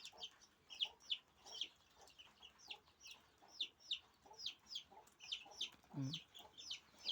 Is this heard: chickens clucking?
yes